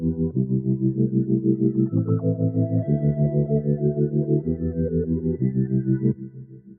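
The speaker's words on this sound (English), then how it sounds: "I'm gonna add a flanger, then I'm gonna add a reverb, and then EQ just to fit it more to the beat." A reversed synth sound treated with flanger, reverb and EQ plays as a sustained, swirling chordal tone with a pulsing rhythm, shifting pitch every second or so, then cuts back near the end.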